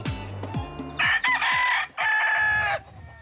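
A fighting rooster from a cockfighting stable in Martinique crows loudly and close, two long strained calls, with clucks and other birds around it.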